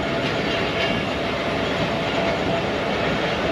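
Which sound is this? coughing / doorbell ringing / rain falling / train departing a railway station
train departing a railway station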